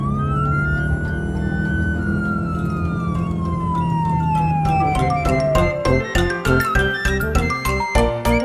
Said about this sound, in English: Rescue car with trailer and hovercraft.